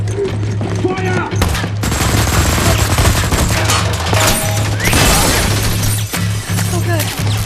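Dense gunfire from a Wolfenstein: The New Order cutscene, with rapid automatic bursts, sharp shots and shattering impacts over a continuous low rumble, while voices shout in German amid the din.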